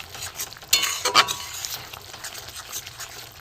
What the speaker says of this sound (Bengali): একটু কষে নিই মশলাটা।